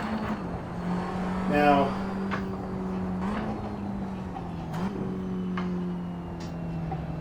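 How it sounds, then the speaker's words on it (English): A small race car engine in a racing simulator at the Nürburgring track drones steadily, shifting pitch with a few rev changes and gear shifts while someone talks over it. "So I take this little car around and give it a shot at this Nürburgring track."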